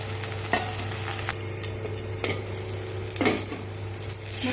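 Spice paste with browned onions frying for Bengali mutton kosha, a steady close sizzle with a few scraping stirs of the spoon against the pan, and no talking.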